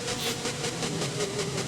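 A video-game train rolls into a station, a steady rushing rumble with hissing and a faint tonal hum, continuous and fairly distant, with no voices.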